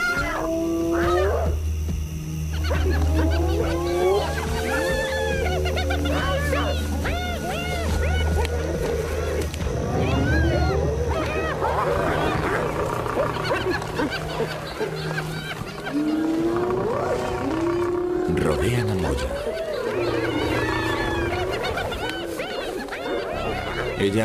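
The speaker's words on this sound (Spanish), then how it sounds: "Más tarde, los aullidos de las hienas rompen el silencio." Spotted hyenas call at night in an African crater, their rising, wavering howls repeating and overlapping over a low background rumble.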